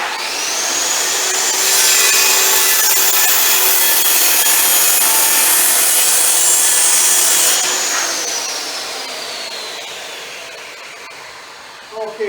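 A power saw at a saw station cuts wood on a grain building project, giving a loud, sustained whine under load for several seconds before it winds down, with a couple of knocks at the end.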